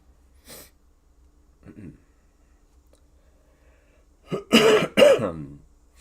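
A person with a cold gives a few coughs and throat clears: faint ones early on, then two loud, harsh coughs close together near the end.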